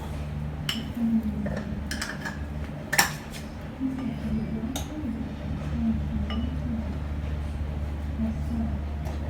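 A spoon clinks against a pot as salt is added to tomato curry, with a few sharp metallic taps early on, over a steady low kitchen hum and occasional voice.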